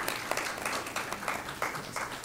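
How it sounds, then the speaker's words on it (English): Audience applause at a 2014 legislative listening session, a brief patter of scattered clapping from a modest crowd, moderately loud and fairly close. "Give him a round of applause"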